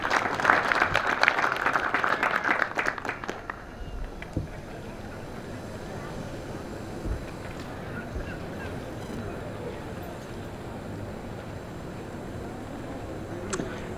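Applause from the audience at an LAPD recruit officer graduation ceremony for Class 9-21 fills the opening seconds with dense clapping, then fades to a quieter room murmur.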